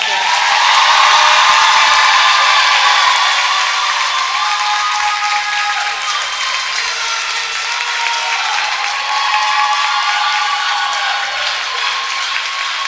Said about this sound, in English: Give one last round of applause for Darian Atkinson.